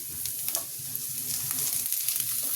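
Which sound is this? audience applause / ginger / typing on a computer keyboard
ginger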